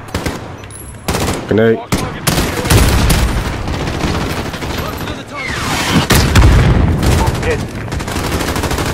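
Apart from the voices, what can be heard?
gunfire and explosions in Call of Duty Modern Warfare video game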